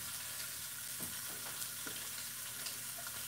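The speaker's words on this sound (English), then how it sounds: "I'm going to take my sausages I sliced in half. And we're basically just going to sear them on both sides." Halved sausages sear in a hot pan with a steady, close, loud sizzle throughout, broken by a few soft knocks of the pieces being moved around, and nobody speaks.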